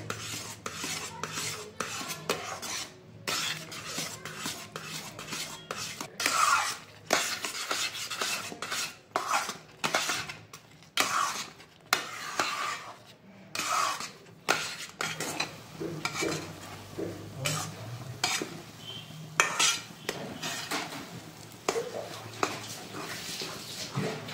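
A spatula works thick, bubbling mung dal halwa in a pan over low flame, a run of repeated close scraping and rubbing strokes with faint sizzle between them, no talking.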